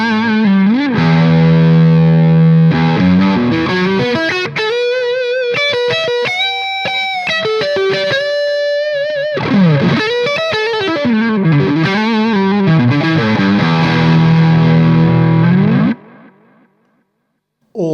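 A Gibson 1959 reissue Les Paul electric guitar on its bridge pickup with tone controls full, playing a loud, distorted run of sustained notes and bends with no pauses until a sudden stop near the end.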